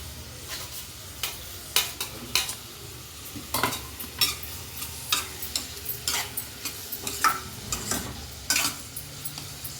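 Green chilies fry with onions in a pan for a small-fish masala curry, a low sizzle broken by repeated sharp scrapes of stirring in an irregular rhythm, close and with no talk.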